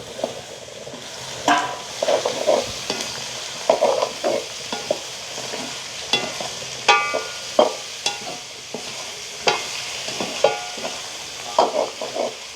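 Brinjal and chilli pieces sauté in a pan in a village kitchen, a soft constant sizzle broken by repeated scraping and clattering strokes of a stirring spoon, close and steady.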